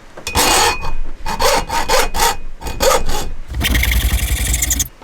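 A hand saw cuts through a hollow metal tube for a custom knife handle in loud, close back-and-forth strokes with short gaps, ending in a rougher, continuous rasping stretch.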